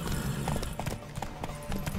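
Galloping hoofbeats of a horse in The Witcher 3, a quick steady clip-clop running under game music and ambient effects, with a short vocal bit at one point.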